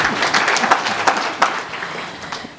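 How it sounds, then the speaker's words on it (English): An audience at a technology and innovation conference claps, giving dense, steady applause from many hands at an even level throughout, with no voices heard. "Don't be mean with claps."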